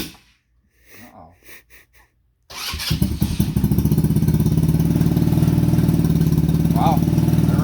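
A Coleman BK200 minibike with a swapped racing CDI, in neutral, starts after a brief pause and quickly settles into a loud, steady near idle that continues to the end; a few soft breathy sounds come before it catches.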